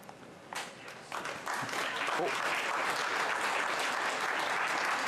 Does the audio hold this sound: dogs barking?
no